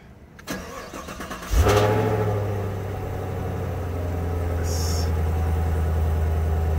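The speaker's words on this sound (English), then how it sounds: "Cold start." A Chevrolet Camaro SS convertible engine cranks and catches with a loud roar on a cold start, then settles into a steady, rumbling idle that continues to the end.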